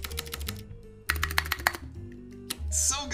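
Typing on a custom-built mechanical keyboard, bursts of crisp, close keystrokes in short runs separated by pauses, with faint voice and background noise underneath.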